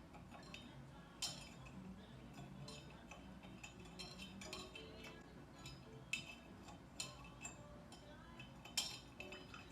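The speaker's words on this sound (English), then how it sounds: "you give it a stir." Bourbon cocktail stirred over large ice cubes in a glass, with repeated light clinks and taps of ice and spoon against the glass, fairly close, over a steady low background hum.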